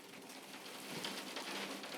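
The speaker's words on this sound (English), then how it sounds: "I don't know if you can hear the rain coming down out there, but it's sure coming." Steady rain falls outside, a soft, even hiss of drops on surfaces that holds at the same faint level throughout with no other sounds.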